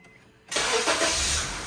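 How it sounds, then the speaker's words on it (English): 2010 Honda Civic starting after a short near-silence: the starter catches abruptly and the engine settles into a loud, steady idle right up close. "we're gonna start the car"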